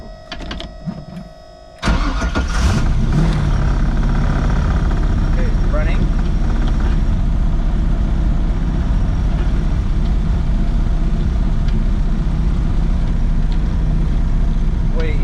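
After a brief quiet stretch with faint talk, the engine of a Mazda RX7 FC drift car cranks and fires up, then settles into a loud, steady, close idle that runs continuously.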